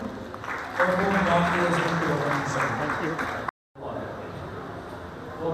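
A church audience at a Mothers Day celebration applauds steadily, crowd clapping mixed with voices, broken by a brief moment of total silence before the sound resumes.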